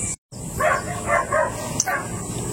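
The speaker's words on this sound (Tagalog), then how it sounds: "Ayun yung mga aso." Dogs bark and yip outside a house near a brackish fishing spot, several short bursts at moderate distance with no talk over them.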